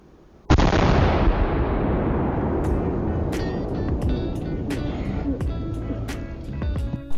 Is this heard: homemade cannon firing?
yes